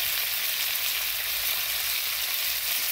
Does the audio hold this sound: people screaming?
no